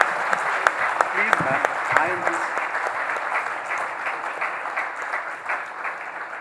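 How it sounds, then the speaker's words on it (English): Audience applause after a music performance, sustained clapping from a crowded hall throughout, with a voice speaking over the start. "just another round of applause"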